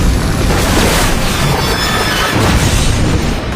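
A loud, sustained explosion rumble from a movie trailer, a dense roaring blast that fills the whole clip without easing, with no talking over it.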